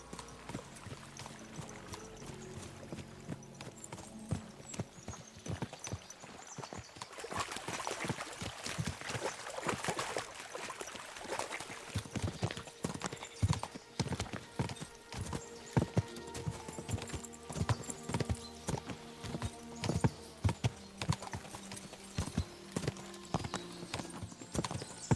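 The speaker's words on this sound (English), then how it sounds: "we'll give the horses a gallop again." Steady rhythmic clip-clop of horses galloping in Kingdom Come: Deliverance II, continuous hoofbeats throughout with a brief whinny, sounding like game audio.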